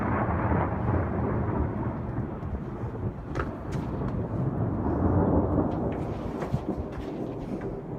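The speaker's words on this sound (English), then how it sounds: "This is a beautiful thunderstorm." Thunder rolls from a thunderstorm as a deep, continuous rumble that stays loud and steady for about eight seconds, with faint crackles near the end and no talking.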